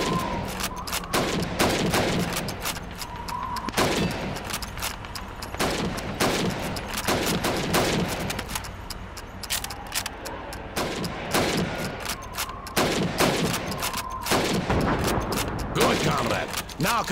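Rifle shots ring out at helmet targets during a Call of Duty 2 training exercise, a string of sharp cracks spaced a second or two apart over game ambience, with a voice speaking at times in between.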